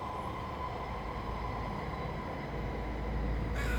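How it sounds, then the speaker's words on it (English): A train rumbles past in a steady, dense low roar of wheels and railcars that swells slightly near the end, heard outdoors without speech. "I can't hear that train until just about a second before I can see it"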